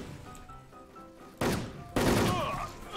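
Video game gunfire arrives in two abrupt, loud volleys of rapid shots, each ringing briefly, after a quieter lead-in with faint background game sound.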